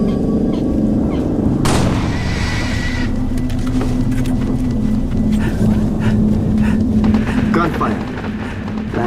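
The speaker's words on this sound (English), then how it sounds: "Gunfire." Gunfire rings out in a Halo Reach campaign battle on legendary difficulty, sharp shots and blasts amid a dense wash of combat noise and music, with a player talking over it.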